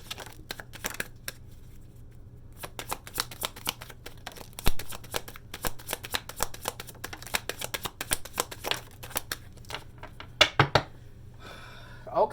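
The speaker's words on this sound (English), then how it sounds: "I shuffled them." A deck of tarot cards is shuffled by hand, with rapid crisp riffles and snapping flicks repeating in irregular bursts, close and fairly loud against a quiet room.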